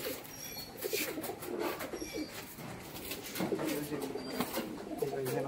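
A male flying pigeon of a tumbler breed coos nearby in repeated low, throaty rolls, with a person talking over it and light clattering and background bustle throughout.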